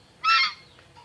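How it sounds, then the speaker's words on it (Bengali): A domestic goose, a white rajhans in rural Bogura, Bangladesh, gives one loud, close honk lasting about a third of a second, with quiet background before and after. "এই সেই ভাই রাজহাঁস এই দেখেন"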